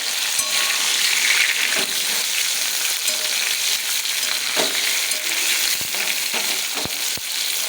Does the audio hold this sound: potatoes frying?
yes